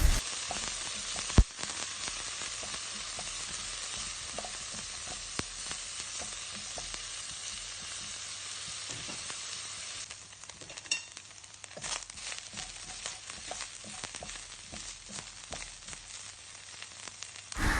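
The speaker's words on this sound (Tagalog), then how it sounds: "pwede na natin lagay yung ating garlic. At igisa-gisa natin guys at ilagay na rin natin yung ating dried chili." Garlic and dried chili sizzle steadily in hot oil while being sautéed, a continuous close frying hiss with occasional crackles and a brief stirring clatter, no voices.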